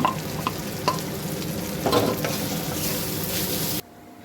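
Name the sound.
potato filling being stirred and fried in a pan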